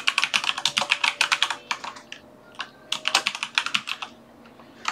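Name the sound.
typing on a computer keyboard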